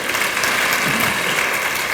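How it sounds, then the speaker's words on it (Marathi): Dense, steady clapping from a church congregation during a Marathi sermon, filling the whole two seconds at an even, loud level with no voices standing out. "टाळ्या वाजवतात."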